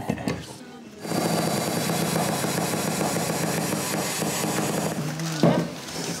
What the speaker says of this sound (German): Ich kann auch bohren.